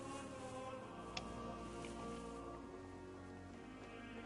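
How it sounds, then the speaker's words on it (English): Rain falls in the medieval video game Kingdom Come: Deliverance, a soft, steady hiss of drops on surfaces with faint rustling, quiet and continuous without talk. "Rain again."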